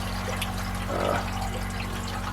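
Water rushing through the sump of a reef aquarium, a constant close wash of flow over a steady low pump hum, with a brief gurgling swell in the middle.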